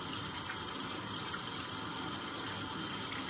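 Water gushes steadily and loudly nearby as it rinses softened paint stripper off a Tama Starclass drum shell, a continuous rush with no pauses and no talking.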